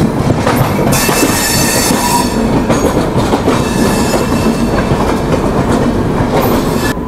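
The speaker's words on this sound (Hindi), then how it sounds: "और यहाँ बिल्कुल पैरेलल डिपार्चर जो है वो हो रहा है श्रमजीवी एक्सप्रेस के साथ" An Indian intercity express train pulls out of the station side by side with the Shramjeevi Express, making a loud, continuous rumble with steady clickety-clack and squealing wheels throughout, close by and with no voices.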